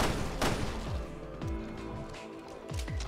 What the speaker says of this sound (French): Et je vous flingue.